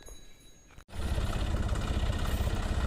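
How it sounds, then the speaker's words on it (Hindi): A harvester machine built on a John Deere 5310 tractor starts up on a farm during wheat harvest, a steady loud low engine drone that continues throughout after a brief quieter stretch. "हार्वेस्टर मशीन आ चुकी है"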